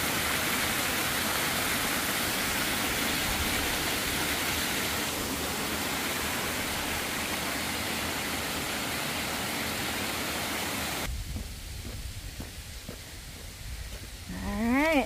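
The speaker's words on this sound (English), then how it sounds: "so we'll be crossing the waterfall at some point down there" A waterfall along the Appalachian Trail rushes in a loud, unbroken roar for several seconds, then drops to a quieter wash with chirps and a voice near the end.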